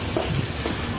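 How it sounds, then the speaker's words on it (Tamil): Chopped onions and tomatoes sautéing in a pan for a sorrel greens dish, producing a dense, loud, steady sizzle with brief stirring scuffs. "வெங்காயம் நல்லா பொடிசாக அரிஞ்சு வதக்கிக்கணும்"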